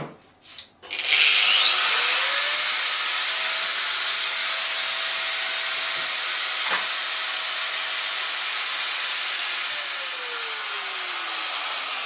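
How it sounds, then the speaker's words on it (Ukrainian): A battery-powered angle grinder, running through an inverter, spins up after a brief click and runs steadily with a high, loud whine and hiss, winding slightly lower near the end. "І тепер запустимо болгарку"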